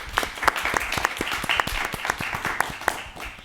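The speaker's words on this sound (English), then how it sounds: "Let's give her a round of applause." An audience at an instructional talk on the journey from the Civil War to emancipation breaks into steady, dense applause, many hands clapping together at close range with no voices over it.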